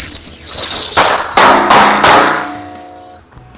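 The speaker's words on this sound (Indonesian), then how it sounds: "Selanjutnya ini mercon tikus box." A box of Indonesian mercon tikus firecrackers goes off with a loud, close high whistle, then a rapid series of sharp cracking pops that fade into a ringing tail.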